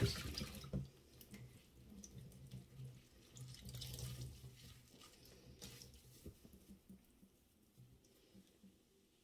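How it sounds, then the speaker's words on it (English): Water splashing and trickling in a sink as an ink-stained shirt is set into it, with soft drips and sloshing that grow quieter toward the end, fairly close and with no talking. "Put the shirt in the water."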